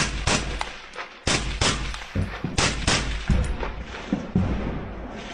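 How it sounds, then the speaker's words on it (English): Semi-automatic rifle gunfire in a war zone, a rapid series of sharp, loud cracks at uneven intervals, each shot followed by a short echoing decay, with no talk. "You now hear him firing his gun. It appears to be a semi-automatic rifle."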